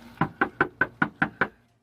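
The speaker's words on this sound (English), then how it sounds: "And they're knocking on doors to let voters know." Seven quick, evenly spaced knocks on a door by union canvassers campaigning for a presidential candidate, loud and close, the last knock fading into quiet.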